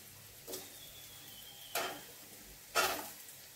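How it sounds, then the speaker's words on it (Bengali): Potatoes fry in a hot pan with a low sizzle. Three separate loud bursts of hissing and clatter sound as the pieces drop in or get stirred. "এবার একে একে সব সবজিগুলো দিয়ে দেবো। প্রথমে আলুটা দিয়ে দিচ্ছি।"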